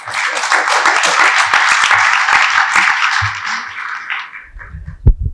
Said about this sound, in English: Please, a round of applause for Jaco.